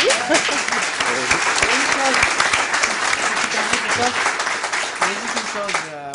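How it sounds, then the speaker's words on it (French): An audience applauds on a French television studio set, dense sustained clapping that stays loud for several seconds while voices talk over it. "on peut vous applaudir"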